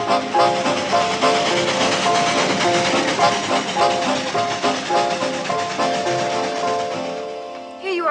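Train running on rails in a 1964 television comedy, a dense, continuous rattle and clatter of wheels and cars with a hissing wash above, fading slightly toward the end.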